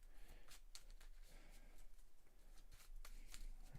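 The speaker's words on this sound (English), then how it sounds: "Give that a good shuffle" Deck of game cards for the GI Joe deck-building game being shuffled, a quiet run of rapid papery riffles and flicks close by, with no voices.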